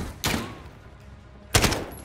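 Two sharp gunshots in the Call of Duty Modern Warfare video game, sudden loud bursts about a second and a quarter apart with quiet between them.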